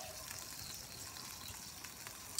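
Onions frying on a Camp Chef Pro 90X griddle give a steady, soft broadband sizzle with faint crackles throughout, fairly quiet and close, with no talking.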